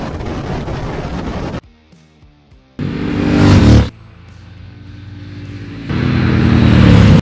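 2021 Triumph Speed Twin motorcycle engine heard while riding, loud bursts of throttle and acceleration broken by quieter idle and coasting stretches, close and without talk.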